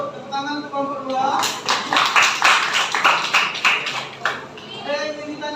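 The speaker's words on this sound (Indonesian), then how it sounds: "tepuk tangan ke kelompok 2" Classroom applause for a student group, a burst of many hands clapping that rises then fades, with a voice speaking at the start and end.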